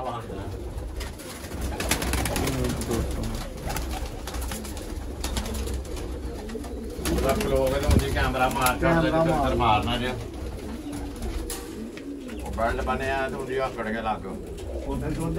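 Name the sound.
pigeons cooing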